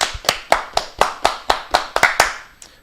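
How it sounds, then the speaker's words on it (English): Ten sharp hand claps ring out in a steady, even rhythm, close and loud, with a slight quickening near the end and no talk. "10 claps, ready."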